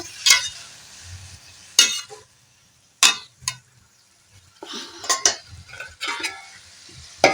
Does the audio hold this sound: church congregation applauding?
no